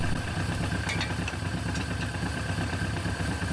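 A Suzuki GS750 motorcycle engine idles steadily during carburetor air-screw adjustment, a close, even mechanical clatter and hum with no speech.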